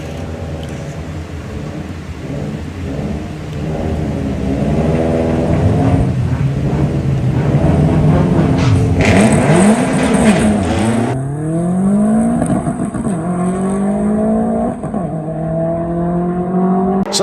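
Volkswagen drag race cars at the VWDRC National Finals eliminations launching and accelerating hard, loud revving engines climbing through gear changes, with a second car rising in pitch as it passes nearby.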